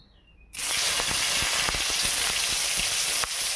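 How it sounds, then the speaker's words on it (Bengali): Eggplant frying in a pan bursts into a loud, steady sizzle after a brief quiet start, with small pops crackling through the hiss up close. "এবার বেগুনটা ভেজে নেই।"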